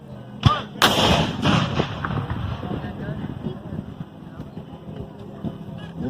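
Civil War battle re-enactment gunfire: a sharp musket crack, then a louder cannon-like boom, followed by scattered shots and rumbling outdoor noise with a voice faintly underneath.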